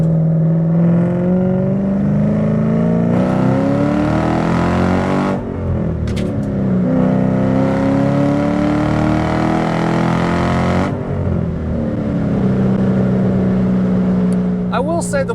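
Supercharged 4.6 2005 Ford Saleen on a test drive, engine loud and close, revving up through gears with rising harmonic whine and pauses at shifts, a voice talking over part of it.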